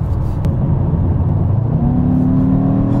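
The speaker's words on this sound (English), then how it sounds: "It's the exhaust, it's the little burps that it has." A 2021 Mercedes-AMG E63 S Wagon's turbocharged engine revs and accelerates with a steady low rumble and rising tone, with little exhaust burps, close and loud throughout.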